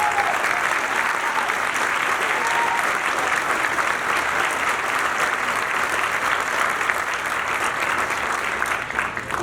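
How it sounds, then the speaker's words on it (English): Sustained, loud applause from a crowd in a room at a celebration at Hard Rock Casino in Gary, Indiana, steady and dense from start to finish with no break. "personally accept the applause of everyone in this room"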